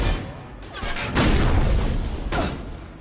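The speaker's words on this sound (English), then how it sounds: "Jack's just firing with an invisible gun" Gunfire and booming shots in the sci-fi shooter Mass Effect 2, dense bursts with heavy low thuds and crashing impacts, loud and close, with two sharp blasts standing out over the rumbling mix.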